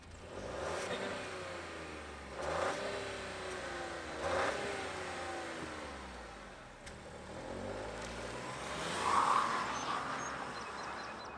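A 2024 Buick Envista Avenir engine idling and revving in a few rising swells, moderately close, with faint birdsong in the background and no speech.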